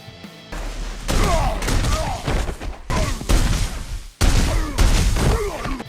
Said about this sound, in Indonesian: Bloodsport pun spontan menembak King Shark secara bertubi-tubi.